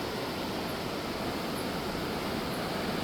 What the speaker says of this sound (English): There's water down here flowing, but I don't see a waterfall itself.